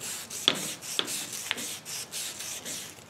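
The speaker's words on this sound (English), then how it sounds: "A bit more sanding." Hand sanding of a painted transfer box linkage part during a Land Rover Defender 90 overhaul, a close, steady back-and-forth rubbing rhythm with a few sharper scrapes, and no talking.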